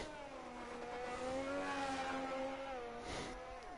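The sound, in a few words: race car engine revving in F1 racing video game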